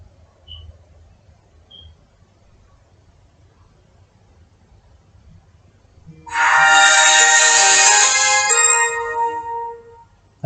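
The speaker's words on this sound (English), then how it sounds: "That was my phone, ignore that." A mobile phone rings once in a quiet room, a loud, bright electronic ringtone that starts suddenly and sounds for about four seconds before cutting off.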